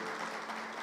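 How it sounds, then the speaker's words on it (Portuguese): A church congregation claps its hands in praise during a worship service, a dense, steady patter of applause filling the whole brief moment. "aplauda o Senhor, amém"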